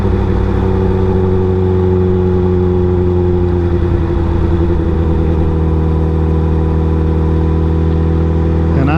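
Car driving in traffic, a steady engine hum with a low drone holding constant pitch throughout, close and continuous with no talk over it.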